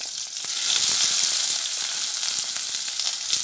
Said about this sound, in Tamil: அது கூடவே ஒரு பாதி பெரிய வெங்காயம் போட்டு வணக்கிறேன்